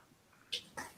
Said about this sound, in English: Okay, so that's a cat.